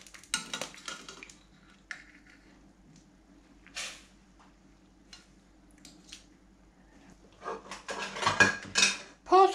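Fish, prepared in a Roman cookery session, is turned carefully in a cooking pan with scraping and clattering of utensil on metal: soft scattered clinks early, then a louder cluster of knocks and scrapes near the end.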